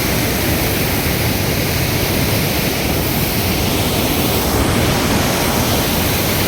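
Steady, powerful roar of water rushing from fully opened dam gates on the flooded Terna river fills the whole clip, a dense unbroken wash of noise with no pauses.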